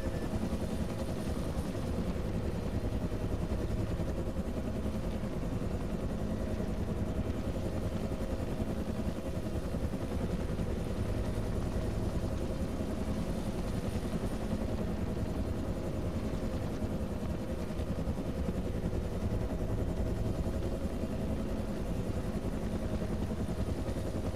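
Military helicopter lifting off in ArmA3, a dense continuous rotor and turbine roar that holds loud and even throughout with no pauses or talk.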